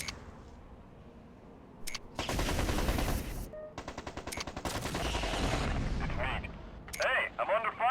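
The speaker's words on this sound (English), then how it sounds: "Hey, I'm under fire over here." Gunfire from mechs in the strategy video game Mech Commander 2 erupts in dense rattling bursts and sharp repeated shots, loud and overlapping, with someone speaking between volleys.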